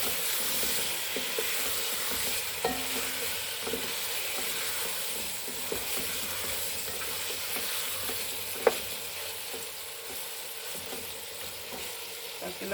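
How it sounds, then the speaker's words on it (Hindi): Mutton sizzles and fries in a pot with freshly added garlic ginger paste for a kachnar gosht handi, a continuous close hiss with occasional stirring scrapes and small pops, no voices. "अब इस स्टेज पे इसमें लहसुन अदरक का पेस्ट डाल देते हैं, और इसी के साथ ही थोड़ी देर से फ्राई करेंगे।"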